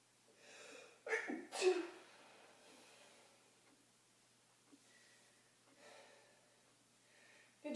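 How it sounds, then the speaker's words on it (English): A person sneezes once during an indoor Pilates class, a sharp gasping intake and burst followed by soft breathing and faint room sounds, all fairly quiet. "I have to sneeze."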